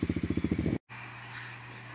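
An Apollo 125cc dirt bike engine runs on premium fuel, idling with a rapid, even popping pulse at close range. The sound cuts out abruptly, then a low steady hum follows.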